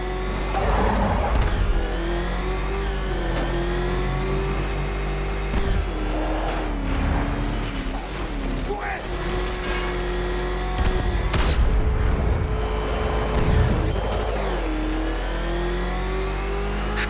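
Car driven in the video game Batman Arkham Knight, a steady engine drone with revs rising and falling, impacts and thumps over a continuous low rumble, loud and near.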